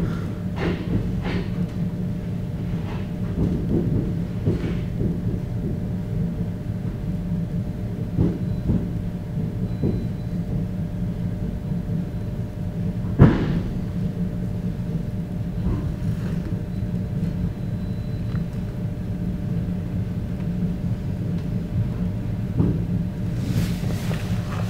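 A steady low rumble of an oncoming Lastochka Comfort electric commuter train rolling by for a long stretch on the Moscow–Tver line, with occasional clanks and rattles and a rising whoosh near the end.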